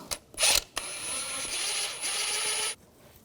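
A ratchet with a 12mm socket loosens turbocharger nuts on a 2004-2009 Audi A4 Quattro 2.0L. A short sharp burst comes first, then about two seconds of steady close mechanical whirring and clicking that stops abruptly.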